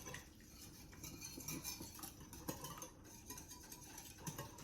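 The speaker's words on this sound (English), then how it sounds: "Give that a stir." A utensil stirs a seasoned breakfast bake mixture in a dish, with faint, close scraping and clinking sounds in an irregular rhythm.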